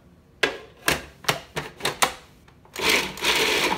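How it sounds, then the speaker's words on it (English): A food processor chops cabbage for coleslaw in a run of short, sharp pulses, then settles into a continuous whirring blend, close and without talking. "So, just gonna put it in my food processor. Blend it up."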